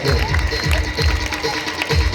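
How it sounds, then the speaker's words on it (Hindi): Applause at a school Independence Day award ceremony: a dense, steady wash of clapping from a gathered audience, with crowd noise and cheering mixed throughout. "Clap everyone, don't जोरदार stop."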